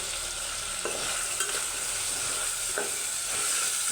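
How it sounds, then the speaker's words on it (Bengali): Vegetables are being stirred in a frying pan with turmeric and chili powder, giving a steady sizzle with a few soft scraping strokes of the spoon and no talking. "দিয়ে এটাকে সুন্দরভাবে নাড়াচাড়া করে দেবো"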